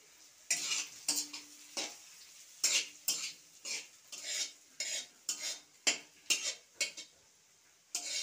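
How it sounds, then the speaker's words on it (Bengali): Already-fried potatoes are stirred in hot oil in a wok: a rapid, uneven run of metal scrapes and clinks over a faint sizzle, close and fairly loud, with no one speaking. "আলু ভাজাটা দিয়ে দিচ্ছি।"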